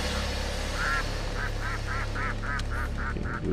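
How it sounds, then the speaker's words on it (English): Ducks in a horror video game quack in a rapid series of about ten nasal, honking calls, fairly loud over a steady low game ambience hum. "Freaking ducks."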